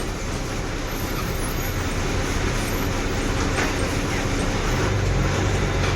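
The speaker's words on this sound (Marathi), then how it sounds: "So entering Barshi bus stand." An MSRTC Lal Pari bus rolls into the Barshi bus stand with a steady, broad engine and road rumble, the traffic noise constant and fairly close.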